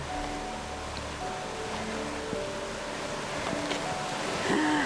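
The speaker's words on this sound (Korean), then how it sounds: "아, 물소리 좋아요." Water flowing through a pine forest in the Canadian Rockies during the spring thaw, a steady broadband rush close by, with faint wind and scattered clicks over it.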